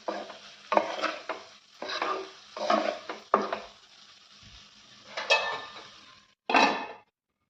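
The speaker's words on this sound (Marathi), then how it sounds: "हे सगळं मिक्स करायचं आणि आता झाकण ठेवून चांगलं शिजू द्यायचं आहे." A spoon scrapes and stirs pav bhaji masala, salt and hing in a pan, coming in separate bursts of gritty scraping and clinking against the metal with short pauses between strokes.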